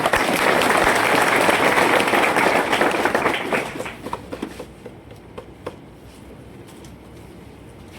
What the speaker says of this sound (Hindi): इसलिए एक बार फर्स्ट रैंक की तरफ से जोरदार ताली।